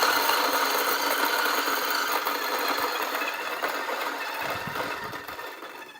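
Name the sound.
Acaia Orbit coffee grinder motor ramping RPM up and down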